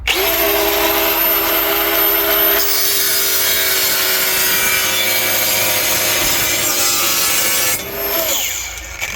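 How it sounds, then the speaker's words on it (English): An angle grinder cuts through a metal section on a Nissan Navara, a loud continuous whine and grind held steady for several seconds before easing off near the end. "I'm going to angle grind this off here."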